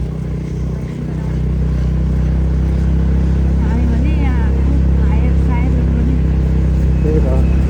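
A powerful motorbike rides uphill from Lakeside toward Sarangkot, its engine a loud, steady drone with constant road and wind rush throughout, and brief voices rising over it midway.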